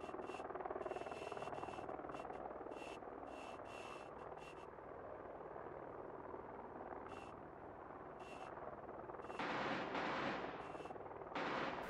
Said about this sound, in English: They're just shooting at what they think they can see.